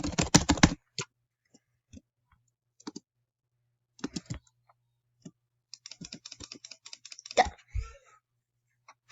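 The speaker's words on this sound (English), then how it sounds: "You like keyboard sound?" Fast bursts of clattery keyboard typing alternate with quiet gaps and scattered single key clicks, close up and fairly soft.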